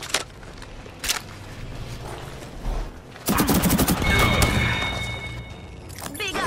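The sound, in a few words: gunfire in a shooter video game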